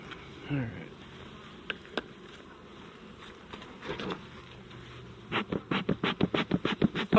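Honey bees buzzing around open hive boxes as frames are cleaned, a soft steady drone with a few brief closer passes, growing into a louder pulsing series of buzzes near the end.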